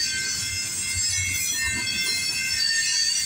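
A CP freight train passing at night in Campbellville, Ontario, with a sustained high metallic wheel squeal over a low rolling rumble, loud and close throughout.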